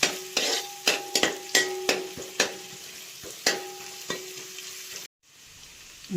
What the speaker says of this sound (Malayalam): ഇനി അതിലേക്ക് നമുക്ക് അരിഞ്ഞു വെച്ചിരിക്കുന്ന ഇഞ്ചി, വെളുത്തുള്ളി, അത് ചെറുതായിട്ടൊന്ന് ഇളക്കാം.